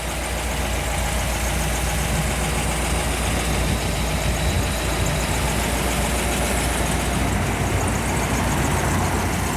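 A 1955 Ford Thunderbird's original 292 engine running in cold weather, a steady, loud, continuous idle with a rough, dense mechanical rumble close by.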